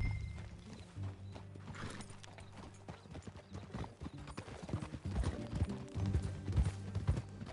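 Hooves of a ridden horse in Red Dead Redemption 2 clip-clop at a steady pace, soft at first and then louder and more distinct, with faint mechanical rattling in the background.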